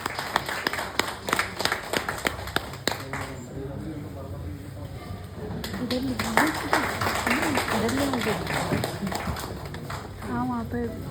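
Clapping at a retirement celebration, a burst of distinct claps over the first few seconds followed by people talking and chattering nearby, with a few more claps near the end.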